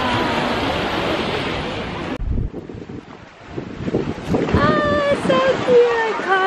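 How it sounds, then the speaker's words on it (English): Ocean surf rushes with wind buffeting the microphone at a Honolulu beach, loud for about two seconds before dropping away; then a voice speaks over softer background noise. "This is the water. We're still at the beach."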